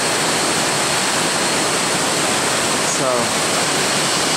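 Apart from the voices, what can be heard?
Wachirathan or Maeya waterfall in Thailand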